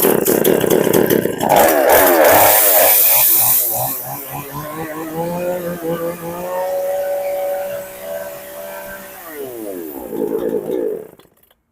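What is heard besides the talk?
chainsaw engine running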